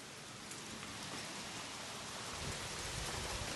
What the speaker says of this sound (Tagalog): Grabe yung ulan. Bumuhos na.